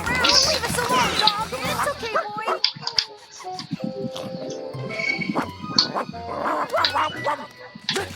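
A cartoon dog in The Garfield Show barks, yips and whimpers in bursts throughout, mixed with cartoon characters talking over and around the barking.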